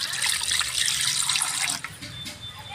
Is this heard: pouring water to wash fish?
yes